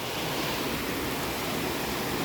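River flowing beside a hiking trail in New Mexico, a steady broadband rush of water heard close and continuous with no other sounds.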